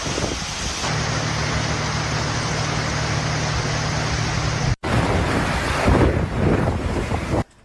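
Roaring wind and crashing surf from Cyclone Mocha, a Category 5-equivalent storm striking the coast of Bangladesh and Myanmar, loud and continuous with heavy wind buffeting the microphone and a brief cut partway through.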